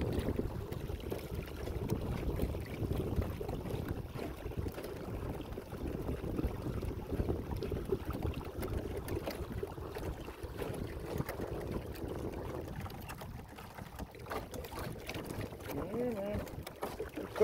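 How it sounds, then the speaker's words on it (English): A small fishing boat driven by a Minn-Kota Endura C2 30 electric trolling motor, with outriggers fitted: a steady low wash of water and motor runs without pause, buffeted by wind across the microphone. "I'm just exploring, seeing how the motor works, how the outriggers work."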